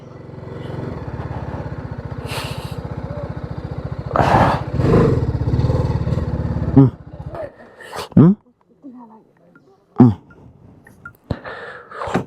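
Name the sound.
motorcycle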